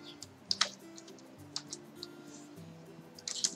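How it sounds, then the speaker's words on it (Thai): Quiet, irregular clicks of a computer keyboard as a word is typed, light taps in small bursts and single strokes over a faint low hum. "แล้วครูก็พิมพ์คำว่า portfolio แล้วกันนะคะ"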